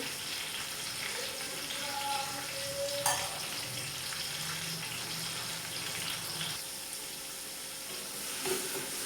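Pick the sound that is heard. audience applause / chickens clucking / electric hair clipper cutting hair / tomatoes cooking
tomatoes cooking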